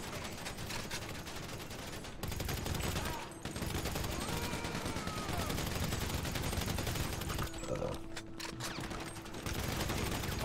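Dense, rapid bursts of gunfire in GTA V Online, loud and nearly continuous, with brief gaps and some faint mechanical noise underneath.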